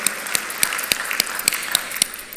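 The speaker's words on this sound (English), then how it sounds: "the team here deserves a big, rousing round of applause for what they have done in the first year" Applause from a forum audience for the organizing team: dense clapping of many hands, with a few sharp individual claps standing out near the front.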